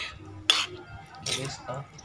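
Tahu gejrot stirred with a utensil, two short scraping clinks of metal against a dish close by, separated by quieter gaps.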